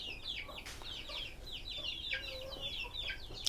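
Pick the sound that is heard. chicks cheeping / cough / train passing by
chicks cheeping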